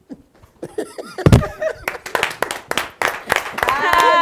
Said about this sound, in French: On applaudit beaucoup pour lui.